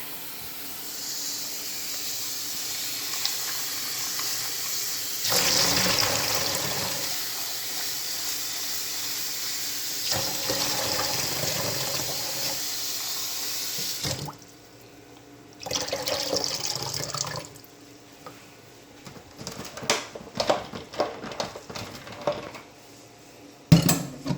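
Tap water runs in a steady hissing stream for a rinse in a kitchen while making green plantain porridge, then stops and restarts in short bursts with light clatter of dishes.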